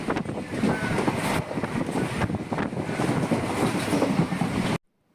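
A Coimbatore–Tiruchendur passenger train runs along the line, a loud continuous rushing roar with heavy wind buffeting close to the microphone, ending abruptly in silence.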